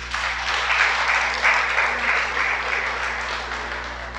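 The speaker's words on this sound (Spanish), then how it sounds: "Dale un aplauso al Creador." A crowd claps steadily, a dense wash of applause that swells slightly and then eases off.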